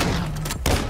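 Gunshots fired through a wall in Call of Duty, heard as a short, loud, close burst of muffled shots with a heavy thump near the end.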